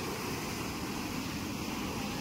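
High-tide sea waves surge against the shore at a boat landing near Vadrai, a steady, moderately quiet wash of surf and wind with no voices.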